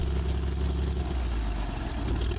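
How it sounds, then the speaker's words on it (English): A simulated Lycoming piston aircraft engine in a flight simulator idles with a steady, low, throaty rumble and faint clatter, close and continuous throughout. "it's just that beautiful purr that the Lycoming engine has"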